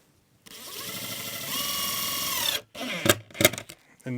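A power drill drives screws into mudroom boards in a log home: a loud rising whine for about two seconds as the screw sinks in, then a pause and a few short stuttering bursts as it is snugged tight.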